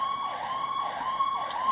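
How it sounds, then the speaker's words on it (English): An ambulance siren in a repeating wail, rising and falling steadily at a moderate distance, heard alone without talk. "The ambulance is coming."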